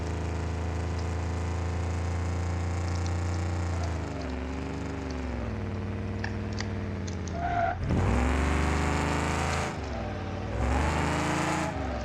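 Lincoln car climbing a steep 15% grade in the BeamNG driving game, a sustained engine drone that shifts pitch as it works uphill, with rising revs and a couple of loud surges near the end.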